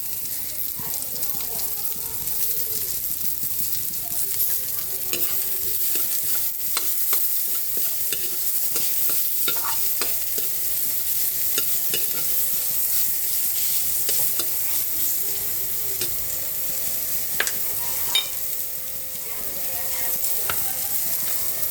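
Steady sizzling of onions frying in a pan for tinola, with frequent scraping and stirring clatter throughout, close and continuous.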